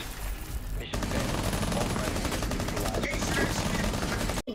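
Rapid gunfire from Rainbow Six Siege crackles in loud, dense bursts, nearly continuous automatic shots with brief gaps, dominating the mix while players shout underneath.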